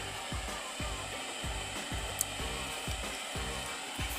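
An electric motor drives an irrigation system in a village field, a steady mechanical drone with a regular low rhythmic thumping repeating about twice a second, fairly faint and alone.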